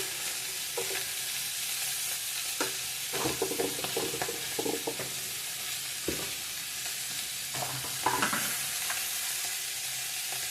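Chopped tomatoes and salt sizzling in a hot pan, a steady hiss broken by scattered scrapes and taps as they are stirred, close by.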